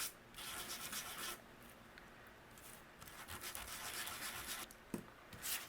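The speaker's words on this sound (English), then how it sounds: "Such a cool sanding disc." A sanding disc rubbing along the edges of a paper card to distress them gives off faint, close, scratchy abrasive strokes in short bursts with brief pauses between them.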